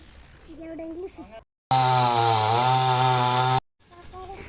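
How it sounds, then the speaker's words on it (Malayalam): A chainsaw cutting down a tree in a home yard runs loud and steady for about two seconds at high revs, framed by people talking before and after it. "അവര് മരം മുറിക്കുമ്പോൾ"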